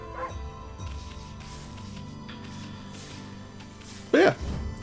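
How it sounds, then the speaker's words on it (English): In the video game Ōkami HD, the wolf gives one short, loud bark near the end, over a soft, continuous bed of game music and ambience. "I got distracted by digging and barking."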